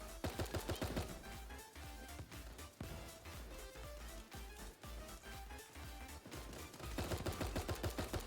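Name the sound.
gunfire in a video game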